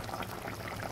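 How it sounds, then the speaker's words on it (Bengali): Boiling hot water being poured into a Bengali katla fish curry (doi katla) over spices in a pan, a steady close bubbling, sizzling wash with no talk. "এবার দিয়ে দিচ্ছি ফুটন্ত গরম জল।"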